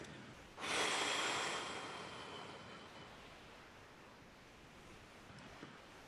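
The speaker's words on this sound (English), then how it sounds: "And then exhale." A single long exhale during a guided breathing exercise: a soft, breathy rush that starts abruptly, then fades slowly over several seconds, close and quiet with no talking.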